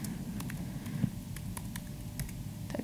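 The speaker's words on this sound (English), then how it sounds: "Typing is hard." Keys clatter on a computer keyboard in an irregular run of light taps, fairly close over a steady low room hum during a Go programming talk, with no voices.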